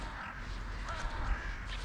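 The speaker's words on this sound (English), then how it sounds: "I see about 30 crows here." Crows caw at a quiet Sunday morning feeding spot, several harsh calls that stay faint and distant over a steady low rumble of outdoor background noise.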